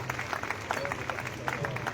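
Applause rises for top-ranked graduates at a women's college convocation ceremony, steady clapping from an indoor audience with faint voices underneath.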